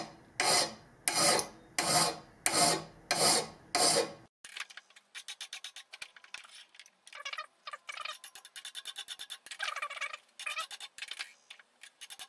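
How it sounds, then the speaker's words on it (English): A hand file rasps plating off a motorcycle footpeg: five loud, even strokes at first, then a longer run of quicker, lighter scraping strokes, close up with no talk. "So I'm just going to remove the majority of the plating with a file."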